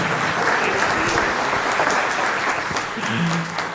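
A church congregation at a Sunday school teachers' forum applauds with sustained, dense clapping that fills the room throughout.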